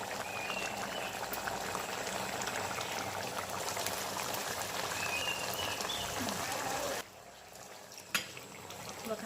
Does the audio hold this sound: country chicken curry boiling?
yes